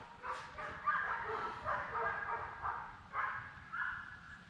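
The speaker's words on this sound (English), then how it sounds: "Stupid dogs." Several dogs bark and yip in short bursts at a moderate distance, a steady run of separate woofs over a low background rumble.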